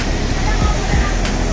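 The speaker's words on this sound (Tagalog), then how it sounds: "Ayun na siya, yung mataas na falls." Water rushing at Nacali Falls, a loud, dense, continuous roar close by with faint voices in the background.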